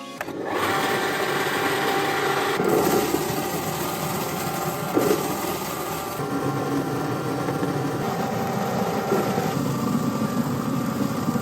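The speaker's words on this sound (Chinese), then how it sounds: "接下来开始打粉，哟，开机。" A grinding machine mills fresh water chestnuts into a wet powder, running as a steady, loud mechanical whir with a constant high whine that holds unchanged through the clip.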